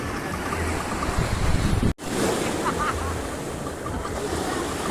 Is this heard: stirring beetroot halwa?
no